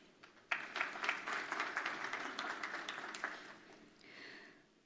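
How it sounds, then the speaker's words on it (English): An audience at an event for Maldivian small businesses breaks into applause, a sudden burst of many hands that holds steady for several seconds and then fades out near the end. "A warm round of applause for them,"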